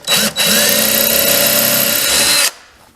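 A power drill whines loudly at full speed, briefly dips, then runs steadily for about two seconds before stopping abruptly, close up, drilling through a wooden cabinet box.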